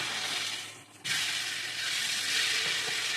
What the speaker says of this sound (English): Bam! Big fucking sizzle.